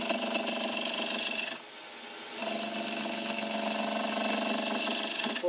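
A ball gouge hollowing the end grain of a yew vase on a spinning lathe gives a steady, harsh buzzing scrape that drops out briefly as the tool lifts away, then resumes just as loud.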